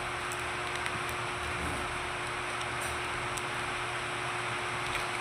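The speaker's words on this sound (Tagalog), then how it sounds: "Sorry kung maingay umuulan na kasi dito" Steady rain falling outside a workspace, a soft continuous hiss with faint patters, alongside a constant low hum like a running fan or motor, even and unchanging throughout.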